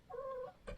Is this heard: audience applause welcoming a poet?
no